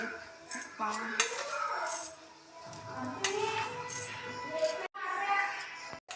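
Spoonfuls of sugar added to boiling milk, heard as intermittent metallic clinks and scrapes of a spoon against a vessel, fairly quiet, with a voice talking in the background.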